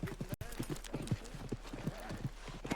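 Horse hooves clip-clop in Red Dead Redemption 2, a quick rhythmic trot of close hoofbeats running throughout, with a brief glitchy dropout near the start.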